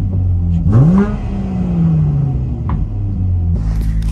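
A car with a newly installed AEM X-Series wideband gauge cranks and catches, its engine revving up in one rising-then-falling sweep before dropping back to a steady, close, rumbling idle.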